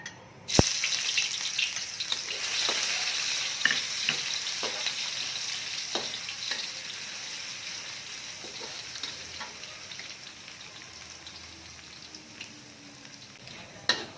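Ginger stir-fries in a hot pan for Chinese-style fish porridge, a steady bright sizzle with scattered clicks and scrapes of stirring, loud and close throughout, no talking.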